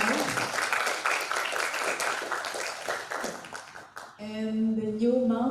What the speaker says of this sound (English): Give applause to Pak Alvan